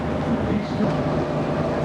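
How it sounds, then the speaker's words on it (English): A train from Bronxville, New York, rumbles past nearby in a steady, loud roar of wheels and rail noise, with no clear talking. "Train coming from Bronxville"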